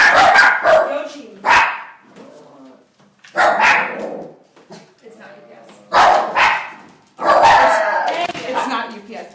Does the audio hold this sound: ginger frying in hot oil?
no